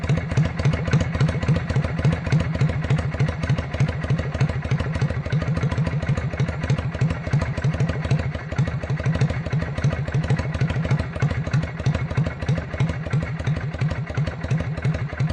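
A Yamaha XVS 125 Dragstar motorcycle engine idles roughly and slowly near stalling, a close, steady, loping chug of uneven thumps with a mechanical clatter throughout.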